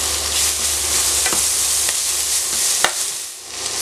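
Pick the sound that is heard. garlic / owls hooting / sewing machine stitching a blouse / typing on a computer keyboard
garlic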